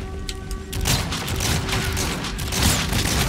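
Shotgun blasts and surrounding combat in Call of Duty: Infinite Warfare, dense and loud, with overlapping booms and mechanical clatter throughout.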